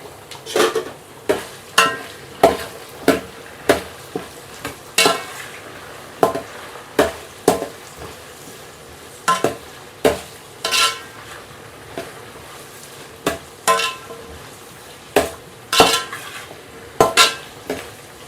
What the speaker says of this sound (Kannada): ಇದು ಎಣ್ಣೆಗೆಲ್ಲ ತರಕಾರಿ ಎಲ್ಲ ಕಾಯಿಪಲ್ಲೆ ಎಲ್ಲ ಚೆಂದಾಗಿ ಎಣ್ಣೆ ಒಳಗೆ ಫ್ರೈ ಆಗಬೇಕು ರೀ.